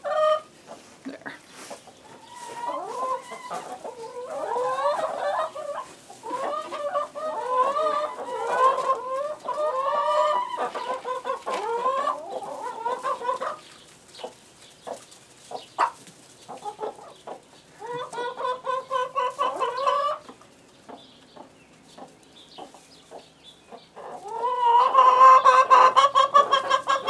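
Chickens cluck and chatter close by in a steady stream of short calls, pausing briefly, then a louder burst of clucking near the end.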